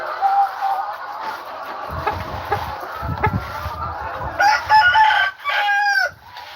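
Chickens on a farm clucking in a busy flock, with a few loud, close crowing calls rising near the end over the ongoing clucking.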